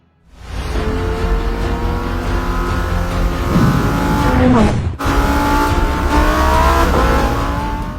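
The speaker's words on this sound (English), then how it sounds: "This is the brand new Lambo Huracan Evo rear wheel drive." Lamborghini Huracan Evo rear-wheel-drive supercar engine running loud and steady for several seconds, with a brief dip near the middle before it picks back up; no talking.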